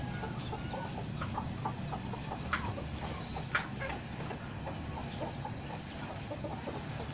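A rooster near a trap gives soft, scattered clucks outdoors, faint against steady background noise, with a few brief sharper sounds in between.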